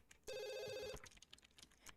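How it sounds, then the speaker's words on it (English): A telephone in The Sims rings once in a short, bright burst of under a second, followed by faint clicking sounds. "Go answer the phone."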